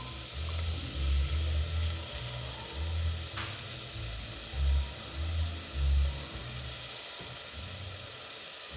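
Half a cup of yogurt added to a pan of mushroom biryani brings a steady close sizzle and frying hiss, with low rumbling thumps and stirring sounds recurring throughout.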